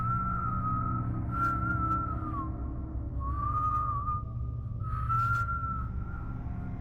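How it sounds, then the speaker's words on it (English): A thin, steady whistled tone in several sustained phrases with short gaps, heard at a distance over a constant low hum. "A whistle, coming from outside the house"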